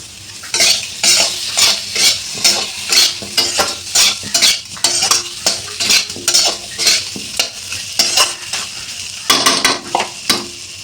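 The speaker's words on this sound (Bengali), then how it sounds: "এটা দিয়ে আমি একটু নেড়ে চেড়ে কয়েকটুকু টমেটো কুচিও দিয়ে দিলাম" Chopped tomato is stirred and fried in a pan with turmeric for a cauliflower and masoor dal dish, a spoon scraping in steady rhythmic strokes over a constant sizzle, close and alone.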